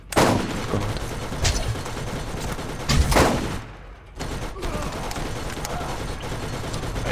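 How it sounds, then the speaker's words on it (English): Automatic machine gun fire from a shooter in the co-op game Borderlands, dense rapid bursts crackling continuously over several seconds with a brief lull midway, loud and close with game noise around it. "Oh, that machine gun."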